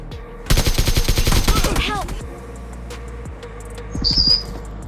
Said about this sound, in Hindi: मैं इसके ऊपर गोली चलाता हूँ